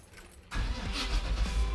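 A repurposed bread truck serving as a food truck starts up after a quiet half second, its engine catching and rumbling steadily and close by.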